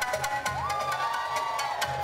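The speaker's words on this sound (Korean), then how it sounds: "물의 도시에서 물도깨비가 펼치는 화끈한 공연에 박수갈채가 멈출 줄을 모른다" A festival street crowd at a mime performance cheers and claps in brief bursts, with a rising whistle-like tone over the noise.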